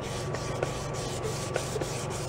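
Repeated rubbing strokes of sandpaper on the glossy finish of a Slingerland Artists Model snare drum shell during restoration, a close, steady scratchy rasp with faint periodic ticks.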